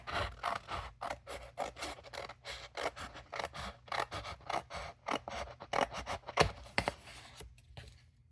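Paper trim being cut off a collage with scissors, a close, quiet series of rapid snips and scraping rubs in an uneven rhythm, alone with no talk.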